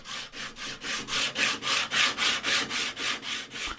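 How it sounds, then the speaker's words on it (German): Rhythmic back-and-forth sanding on wood, about fourteen steady scratchy strokes in a row, close and fairly loud with no voices. "Jetzt schleife ich den Klarlack wieder runter."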